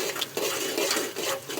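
A spoon stirs cumin seeds in a cooking pan with onion and tomato, giving soft repeated scraping and light clinks of utensil on metal, close and fairly quiet, with no talk.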